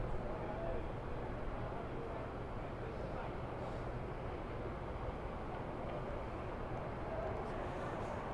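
An airplane descends toward the city over Manhattan at night, giving a steady, low, broadband roar that holds evenly throughout with no clear rise or fall.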